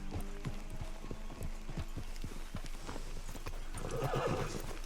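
Horses in Red Dead Redemption 2 neigh and whinny over steady clip-clop hooves, with a louder whinny near the end, close and continuous through the whole stretch.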